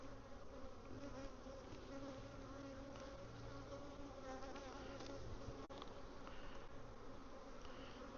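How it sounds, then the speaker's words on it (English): Dense, continuous humming of many honey bees inside a crowded hive, close and steady throughout without speech, with a brief click partway through. "There's a lot of bees in here."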